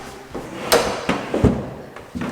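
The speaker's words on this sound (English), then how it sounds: "This door's a little bit of a struggle" A stuck door in an empty, echoey new house being forced open, with several separate knocks and scrapes, close and fairly loud in a reverberant room.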